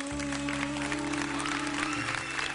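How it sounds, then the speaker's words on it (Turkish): Audience applause fills the space in a dense, steady wash of clapping, with a low musical hum sustained underneath. "Değerli arkadaşlar için büyük bir alkış istiyorum"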